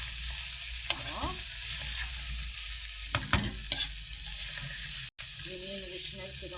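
Rice stirred as it fries in a pot sizzles continuously, with a spoon scraping and knocking against the pot now and then and a voice speaking briefly near the end.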